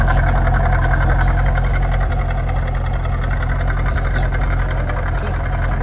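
A Chevrolet Lumina SS idles with a steady, loud, low exhaust rumble that holds an even pulse up close the whole time.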